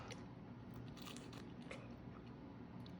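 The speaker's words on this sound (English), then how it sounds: "I really just wanted to pick it up and eat it" Someone bites into a warm Italian appetizer of sweet pepper with creamy cheese and mozzarella, giving a soft, close crunch and chewing over a quiet room, with no talking.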